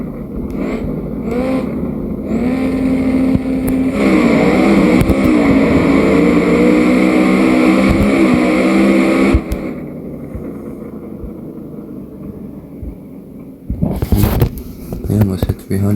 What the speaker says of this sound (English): This is going to be a decent race because we get about the same burnout